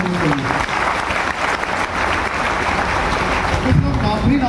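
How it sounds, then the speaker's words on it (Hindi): A crowd at a business meeting gives loud, continuous clapping, dense and steady throughout, with a few voices rising over it near the end. "एक जोरदार ताली सारे बिजनेस लोगों के लिए।"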